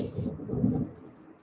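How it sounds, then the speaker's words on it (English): Thunder over a city during a storm, a low rolling rumble that swells and then fades over about a second, heard from a distance with no talking. "Holy cats, that was thunder"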